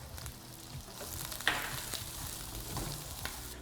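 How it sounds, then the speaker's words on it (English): Garlic frying in a pan while cooking vegetables for a veggie lasagna, a steady close sizzle with a brief scrape or stir partway through. "So I'm just going to add some garlic here."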